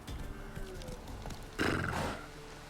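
Roach, Geralt's horse in The Witcher 3: Wild Hunt, gives a loud, close whinny midway through, following a stretch of hoof clip-clop and faint ambient game sound.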